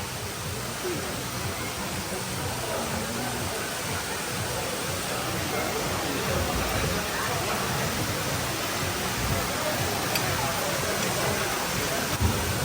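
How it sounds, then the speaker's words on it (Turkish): Steady rain falls in the Maldives, a dense, even hiss of drops that fills the whole stretch without pause, close and fairly loud. "Bugün bütün yağmur yağdı."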